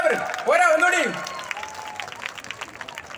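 An audience at a first-anniversary celebration claps for Dr. Boby Chemmanur. A quick burst of applause starts under an announcer's raised voice, then thins to scattered claps.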